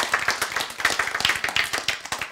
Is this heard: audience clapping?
yes